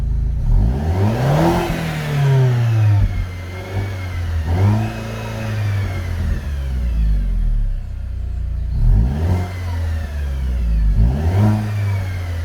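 A tuned Mercedes W212 AMG by Pardi, its engine revved repeatedly from idle, each blip rising sharply then falling back to a low rumble, loud and close, with no voices.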